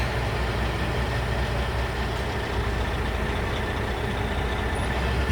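A tractor truck in low gear pulling briefly against its trailer brakes, a steady loud diesel drone with low rumble, continuous and unchanging, no talk.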